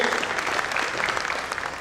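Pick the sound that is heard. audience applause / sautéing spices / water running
audience applause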